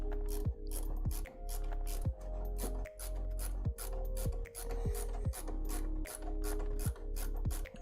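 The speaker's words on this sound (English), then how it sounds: "I gotta move this thing so I can screw in the screw" A ratcheting tool clicks rapidly and steadily as a screw is driven in on a P1P 3D printer, with regular short pauses between strokes, close and loud, with no talking.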